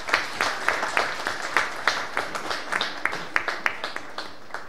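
An audience at a Hindi fortnight closing ceremony gives a round of applause, its loose, moderately loud clapping settling into a rhythmic beat.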